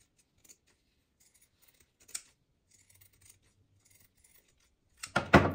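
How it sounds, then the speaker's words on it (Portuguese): Scissors snip into delicate satin fabric while making a scrunchie, a few faint quiet cuts followed by one crisp snip, then a louder burst of rapid close cutting at the end. "Se você quiser, você pode vir dando os piques também com a tesoura do corte de fio reto"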